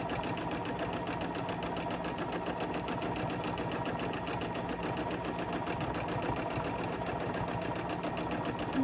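A sewing machine quilting fabric runs at a steady, moderate pace, its needle clattering in an even rapid rhythm close by, continuous for the whole stretch with no talk.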